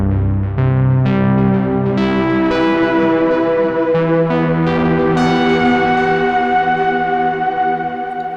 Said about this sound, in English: there's your distortion